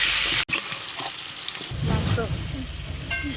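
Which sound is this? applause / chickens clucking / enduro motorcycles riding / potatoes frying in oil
potatoes frying in oil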